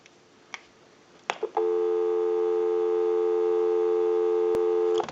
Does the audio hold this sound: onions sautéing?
no